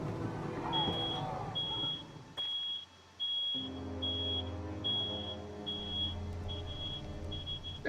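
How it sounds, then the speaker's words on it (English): Electronic beeps ring out in a steady series of short, evenly spaced high tones, coming from the real surroundings rather than the game, over game music and a brief stretch of talk. "That beeping coming from the real world, isn't it?"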